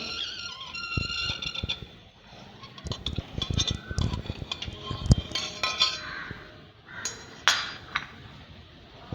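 A metal spoon scrapes and clinks against a mould as steamed bhapa pitha is pushed out, giving a run of irregular taps, knocks and rattles at close range, with no voices.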